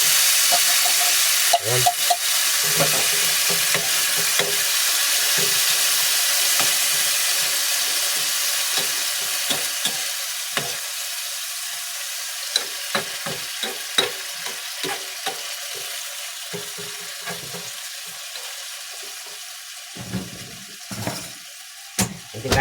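Corned beef frying and sizzling loudly in a hot pan, with scraping and stirring clicks from a spoon throughout; a voice speaks briefly near the end.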